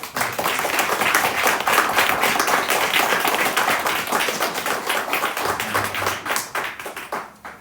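A church congregation claps for a newly married couple during a Sunday morning service, a dense, steady round of many hands that fades gradually toward the end.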